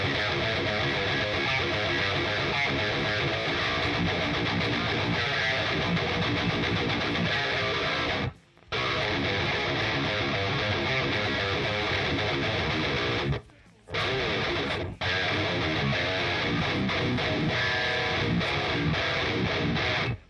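A Schecter Avenger 7 Elite seven-string guitar plays through a free VTAR amp simulator, giving a dense, heavily distorted modern metal tone that runs continuously and loud, broken by two brief cut-outs.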